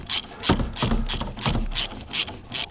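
Ratchet wrench snugging up the strut mount nuts on a 2007-2013 GMC Sierra or Chevrolet Silverado 4WD truck, giving about eight quick, close clicking bursts in a steady rhythm with no talk.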